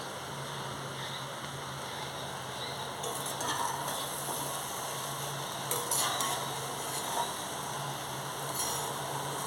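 Water spinach (kolmi shaak) frying in a pan, a faint, steady low sizzle with occasional light clinks and stirring scrapes of a utensil against the pan.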